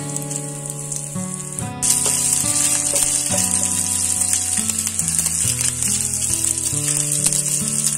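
Bay leaves and grated ginger dropped into hot oil burst into a loud, close sizzle that holds steady for several seconds, layered over a background of tonal music, with no talking.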